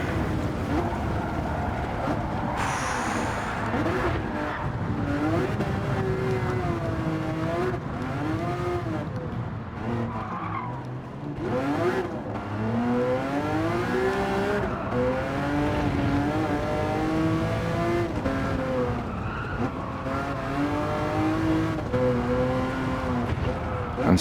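A race car engine in Gran Turismo 7, played in VR, drones and revs steadily, its pitch climbing and dropping through gear changes over about twenty-four seconds, loud and continuous with no talking.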